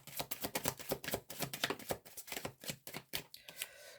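Tarot cards being shuffled by hand, a rapid run of crisp riffling slaps and flicks in quick bursts, close and fairly quiet, easing off near the end.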